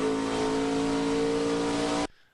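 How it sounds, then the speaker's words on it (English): A race car on a dirt track at the Southern Illinois 100 revs hard as the driver pedals the throttle hunting rear-tire grip, a loud, close, steady engine roar that cuts off abruptly near the end. "You can hear him pedal the throttle, trying to get purchase to those rear tires."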